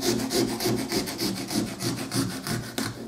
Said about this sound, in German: Einmal um den Stiel herum. Das ist richtig wie eine Säge.